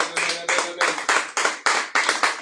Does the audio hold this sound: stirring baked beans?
no